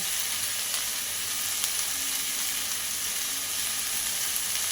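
Yardlong beans and other vegetables fry in hot oil with salt, giving a steady, close, even sizzle with no voices.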